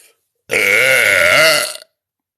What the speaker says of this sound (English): I burp in his face.